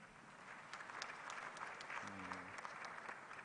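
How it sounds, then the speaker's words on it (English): A crowd at a policy forum applauds, many hands in a steady, fairly faint wash of clapping, with a brief voice sounding inside it about midway through. "Can you give yourself a round of applause?"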